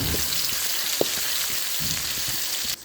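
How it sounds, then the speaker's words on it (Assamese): Chopped onion sizzling and frying steadily in hot oil in a pan, a dense continuous crackle with a brief stir or clink partway through, close and alone. "তেলটো গৰম হৈ যোৱাৰ পিছত ইয়াত দি দিছোঁ মই পিঁয়াজ"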